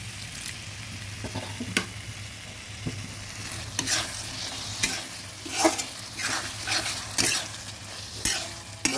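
Frying tomato and fried potatoes sizzle in a pan as a little hot water goes in, giving soft bubbling and steady sizzling with repeated scraping stir sounds and clinks, close and moderately quiet, no talking.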